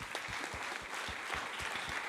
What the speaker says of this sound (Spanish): los despedimos a cada uno de los expositores. Fuerte aplauso.